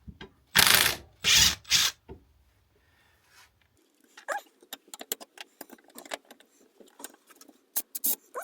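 A ratchet works the sprocket nuts on a Honda motorcycle, with a few loud whirring bursts up front, then a quiet gap followed by a long run of rapid light clicking and tapping at close range.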